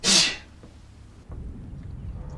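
A game character from Battlefield Bad Company 2 sneezes once, a short loud burst at the very start, followed by quiet low game ambience and rumble.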